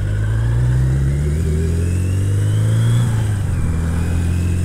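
A motorcycle being ridden, its engine droning loud and close with a steady mid-pitched hum that rises slightly in revs, along with constant wind rush.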